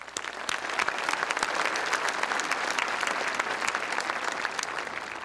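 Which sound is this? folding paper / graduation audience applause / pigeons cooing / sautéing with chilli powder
graduation audience applause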